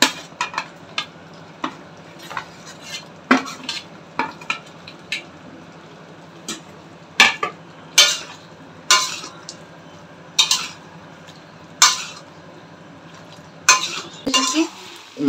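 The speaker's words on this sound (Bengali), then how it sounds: "এবার মাটনটা দিয়ে কষাবো" Mutton is stir-fried in a pot for kosha, with a low, steady sizzle under repeated sharp scrapes and clanks of a spoon against the metal pot.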